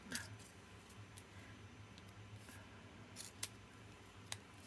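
Scissors snip paper while making altered Christmas paperclip decorations, a few quiet separate cuts spaced over a few seconds against faint room noise.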